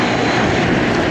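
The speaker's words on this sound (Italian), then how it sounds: "qui davanti c'è il buon Pizzi che è in mano il drone FPV" An FPV drone buzzes past at an extreme enduro riding session, its motors giving a loud, dense, steady whine that fills the short moment, close to the microphone.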